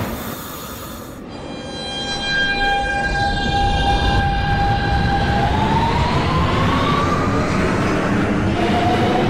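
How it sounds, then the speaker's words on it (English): Simulated NYC subway G train, an R160 car on the Crosstown/Culver local in the OpenBVE simulator, running with a steady loud rumble and rising whining motor tones that climb in pitch as it accelerates, with no talk. "This is a Church Avenue bound G train."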